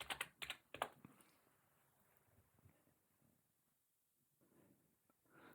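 Password being typed on a computer keyboard during a Linux desktop software install: a quick burst of crisp key clicks at the start, then sparse faint taps over a quiet room hum.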